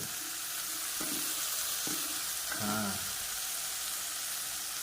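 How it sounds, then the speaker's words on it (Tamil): Dried sardine fish (karuvadu) frying in a pan gives a steady sizzle throughout, with a few brief clatters and stirring noises near the middle and no voices. "சாலை கருவாடை உள்ளே போடுறோம்."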